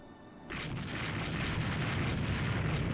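Warships opening fire in the Rule The Waves 2 naval game: after a quiet start, a loud, sustained barrage of booming gunfire and explosions rises and rolls on continuously without pause.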